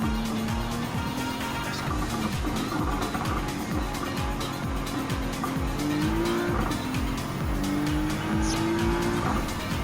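Race car in Gran Turismo 7, a turbocharged Nissan GT-R Nismo, with a high, steady engine drone that rises through gear changes and brief tire squeals, loud and continuous, with no talk.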